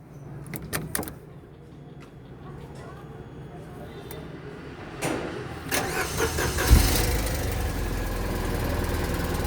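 A Tata Nano's engine cranks and fires up after a few clicks and knocks, then settles into a steady, loud idle rumble close by, with no talking over it.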